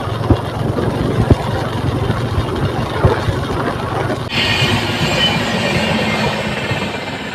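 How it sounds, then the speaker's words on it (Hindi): A train runs on a railway track near a dirt road outside Karjat. The sound is a loud continuous rumble with a few clanks, and a brighter rushing noise comes in partway through, heard from close by. "ये आगे ट्रेन जा रही है"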